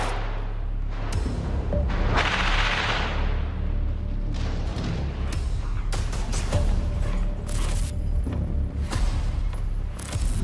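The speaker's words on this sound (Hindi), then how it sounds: "बिल्डिंग के नीचे करीब 3 से 4 आईडीएफ के जवान आते दिख रहे हैं, जिन पर हमास के लड़ाके रॉकेट अटैक कर देते हैं।" Rocket attack and gunfire on IDF soldiers near a building during the war in Rafah: loud, rumbling blasts and sharp cracks in close succession over a constant roar of noise.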